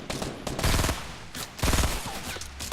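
Gunfire in a video game comes in two quick, close bursts of rapid shots, loud and sharp, with short pauses between them.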